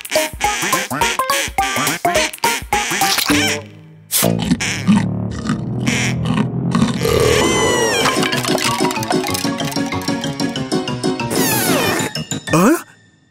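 A cartoon vampire duck in the Pocoyo series quacks and squawks in rapid, comic bursts amid loud music and sound effects, with animated voices speaking over the commotion.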